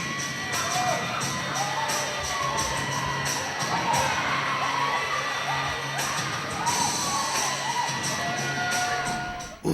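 Large arena crowd at an AWF wrestling night cheering steadily, with shouts and whoops rising from a dense wall of noise that fills the whole stretch.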